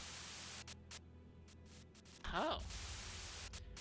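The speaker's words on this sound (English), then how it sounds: "a sudden buzz of white noise breaks through the truck's silence" A sudden burst of radio static white noise from the game Limbus Company erupts partway through and hisses on steadily to the end, with a brief startled voice over it.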